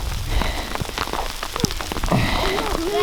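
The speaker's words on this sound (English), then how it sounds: "It's hailing on us now." Rain patters densely with sharp scattered hail impacts striking nearby surfaces outdoors in Utah rock country, while a few voices and short whistling tones come through.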